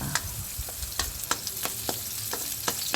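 Onion sautés in a hot pan for a crab in coconut milk dish, a steady close sizzle broken by regular scrapes and clacks of stirring.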